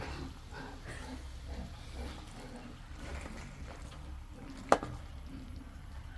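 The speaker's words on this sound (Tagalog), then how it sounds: "Naririnig nyo guys yung mga baboy." Pigs grunting amid a steady, noisy background, with one sharp click near the end.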